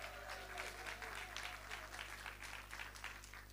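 Audience at a public-speaking event clapping together, a continuous mid-level patter of many hands with a steady low hum beneath and a brief tonal sound at the start, quite faint overall.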